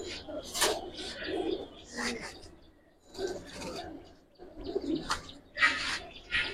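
A Giribaz pigeon coos in soft bursts close by, mixed with people talking and rustling handling noises, the calls rising and fading irregularly across the stretch.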